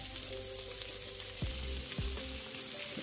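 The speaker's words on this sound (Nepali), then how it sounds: "यसलाई चाहिँ निकै फ्राई गर्नुपर्छ" Chicken meat frying in a pan, a steady close sizzle with faint crackle throughout, alone with no voices.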